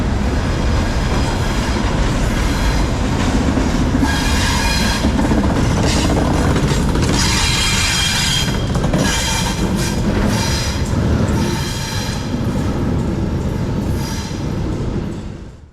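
A Providence & Worcester freight train led by EMD GP38-2 and GE B39 locomotives rolls past nearby, with a steady loud rumble of wheels and rail clatter throughout and some faint squeals.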